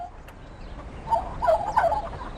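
A hen's warbling, gobbling call rises briefly in the middle, fairly close, over a low background hiss.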